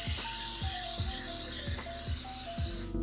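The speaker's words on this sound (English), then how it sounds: "So I'm just going to take some pan spray." Pan spray hisses from a can into a brownie baking pan in a steady, close spray, with several soft knocks and clicks at regular intervals as the can is moved.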